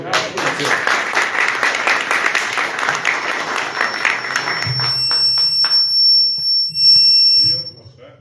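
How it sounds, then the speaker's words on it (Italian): A crowd claps steadily for several seconds, the applause thinning out toward the end, with a high electronic tone and a few voices emerging as it fades. "per essere venuto a trovarci Fabio Filomeni, per cui chiedo un applauso."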